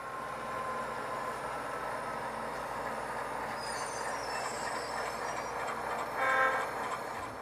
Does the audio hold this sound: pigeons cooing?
no